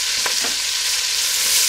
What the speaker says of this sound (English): Onion goes in. Celery and pepper goes in as well.